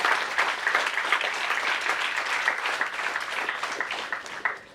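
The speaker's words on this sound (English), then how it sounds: "Please give him a huge round of applause." A lecture audience breaks into sustained applause for the speaker at a memorial lecture, dense overlapping clapping from many hands, steady and fairly loud, thinning slightly toward the end.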